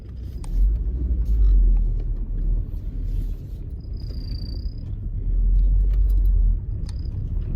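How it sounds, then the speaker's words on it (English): A Volvo V70 2.4 five-cylinder manual estate engine hums with a low, steady rumble while driving along, the tone swelling and easing gently, with no talking. "so you can hear it while it's mooching along"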